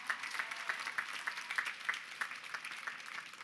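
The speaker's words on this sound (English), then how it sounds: "give an even bigger round of applause for your family and friends who are here today" Audience at a university commencement ceremony applauding, a steady wash of clapping heard from a distance and fairly faint, continuing evenly throughout.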